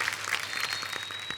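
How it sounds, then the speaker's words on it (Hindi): A studio audience at a comedy talk show claps steadily, a dense, even burst of applause that fills the short moment without any voice over it. "हमारे साथ नन्हे जो है अभिनव जी मौजूद हैं, इनके लिए जोरदार तालियां हो जाएं।"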